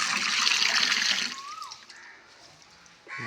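Water is poured onto a tulsi plant outdoors, a loud rushing splash at first that trails off into a quieter trickle before a fresh surge at the end.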